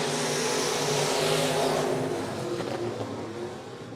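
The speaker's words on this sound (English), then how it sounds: "Green flag in the air. Here we go. Limited modified racing." Limited modified race cars roar off together at a speedway, a loud, dense engine drone with layered revving that holds steady before easing slightly, no voices over it.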